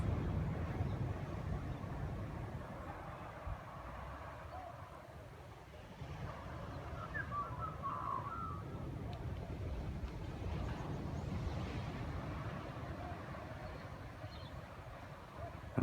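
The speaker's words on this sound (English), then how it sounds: "Listen to the sound of the waves." Ocean surf washing onto a beach on the south coast of New South Wales, a steady broadband wash of waves lasting throughout with no clear breaks, heard from close by on an early morning shore with no talking.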